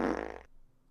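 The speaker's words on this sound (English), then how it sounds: "Here's a fart." A close, loud fart with a buzzing, rasping tone lasts about half a second and stops abruptly, followed by quiet room noise.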